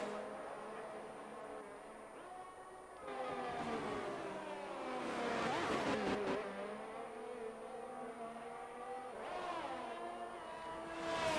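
A Ferrari Formula-style race car engine in a sim racing game screams past in high revs, pitch sweeping up and down through gear changes as cars circulate a track in Austria.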